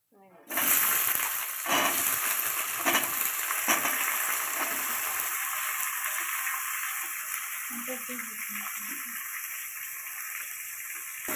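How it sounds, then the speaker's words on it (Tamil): Tomatoes and onions sautéing in a hot pan after dried red chillies and urad dal, a steady broadband sizzle that starts abruptly and carries on evenly, with a few stirring knocks near the start. "இப்போ நம்ம தக்காளி வெங்காயம் போட்டுக்கலாங்க."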